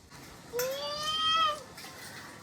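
A house cat's single drawn-out meow, rising then falling with clear harmonics, close by and moderately loud over quiet room noise.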